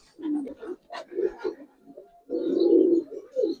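A silver Pakistani high flyer pigeon gives low, throaty coos in short repeated phrases, close by, with a longer rolling coo near the end.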